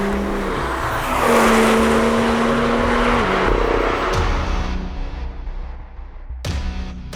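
A BMW sliding sideways on track, its engine note rising and falling in a loud, sustained roar with tire noise, the revs dropping and swelling again before a sharp surge near the end.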